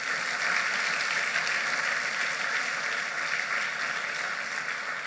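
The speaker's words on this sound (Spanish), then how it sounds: "Denle un fuerte aplauso a Jesús" A church congregation applauds Jesus during a sermon, a thick continuous roar of clapping that stays loud and unbroken across the whole stretch.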